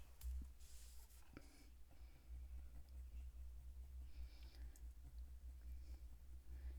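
Coloured pencil shades earth green over paper in small circular strokes, giving a faint, steady scratchy rubbing close up with occasional light taps.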